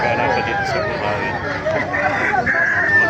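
Chickens and roosters cluck and squawk at a crowded Bocaue, Bulacan poultry market, the bird calls blending with steady crowd babble and people talking throughout.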